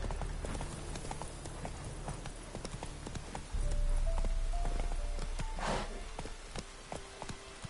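Horse hooves clip-clop in a steady walking rhythm, close and clear, while riding in The Witcher 3, with a short louder stretch in the middle and a faint tonal musical line behind.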